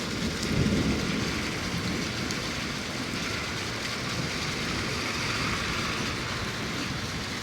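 Heavy rain in Saudi Arabia pours in a dense, unbroken roar, with a low rumble near the start, steady and loud throughout.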